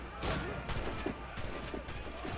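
Repeated gunshots in the video game Assassin's Creed Rogue during a fight with an enemy crew, several sharp cracks spaced irregularly over a busy background of game noise.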